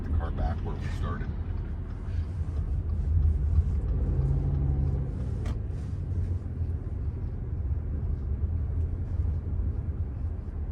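A Subaru on a test drive being driven back to its parking spot, with a low steady engine and road rumble throughout and occasional voices over it.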